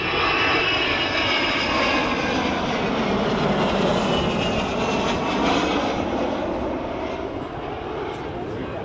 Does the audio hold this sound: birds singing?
no